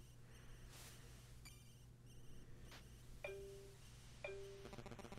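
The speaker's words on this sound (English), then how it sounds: "Jesus Christ, phone, calm down." A phone ringing with repeated electronic chirps and bell-like tones in short bursts, fairly faint against a steady low hum.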